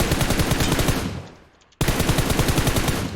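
Rapid automatic gunfire in the shooter game PUBG Mobile, loud, close bursts of shots. A burst fades out, there is a brief gap of near silence, then another sustained burst starts abruptly.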